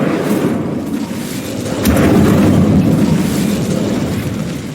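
An Incendio fire spell from the Hogwarts Legacy video game: a loud, roaring burst of flame that swells and sustains with a rumbling, explosive body across the whole stretch.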